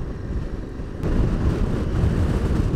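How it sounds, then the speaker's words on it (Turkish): Strong gusting wind in Wellington, New Zealand, roaring and buffeting a microphone outdoors, growing louder and heavier about a second in and staying steady, with no talking. "Diyorum ki gün boyunca niye rüzgar var."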